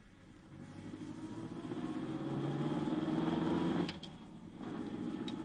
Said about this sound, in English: You know, this is quite a nice little car